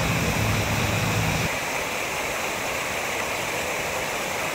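A waterfall on the Leno mountain stream gives a constant, loud rushing roar of falling water, steady throughout with no voices.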